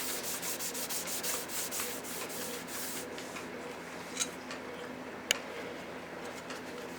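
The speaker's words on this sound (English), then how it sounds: "Been kind of wiping it off, and if I go pretty fast with a shop rag, it really starts to get that shine we're after." A shop rag rubs quickly over anodized aluminum trim from a 1971 Mach 1, giving rapid rhythmic swishing strokes up close that then soften into quieter wiping with a few small clicks.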